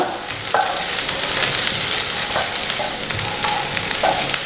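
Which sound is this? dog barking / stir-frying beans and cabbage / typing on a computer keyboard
stir-frying beans and cabbage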